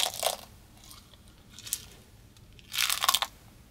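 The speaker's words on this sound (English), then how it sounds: "I've added an apple biting" Crunchy apple bites recorded as a stabbing sound effect: a sharp crisp bite near the start, a faint crunch in the middle, then a louder cluster of crunches toward the end, close and with no talk.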